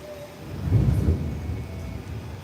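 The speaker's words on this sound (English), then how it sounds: "Oh, you hear that thunder?" Thunder during a pouring rainstorm, a single low muffled rumble swelling and fading over about a second against a steady background hiss of rain.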